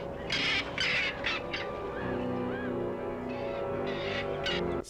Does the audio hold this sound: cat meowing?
no